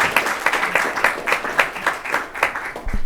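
Audience applause at an advertising industry conference in Mumbai on gender representation, a dense steady patter of many hands clapping together, moderately loud and filling the room with no voices over it.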